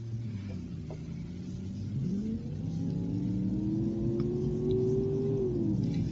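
A video game truck engine in BeamNG.drive revs steadily toward 6,000 rpm, its pitch climbing and holding high, with a continuous droning rumble and no talking.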